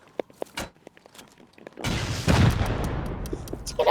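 Rocket explosions in the game Rust: a few sharp pops, then a loud, rumbling blast that rolls on with crackling debris and further booms, close and heavy.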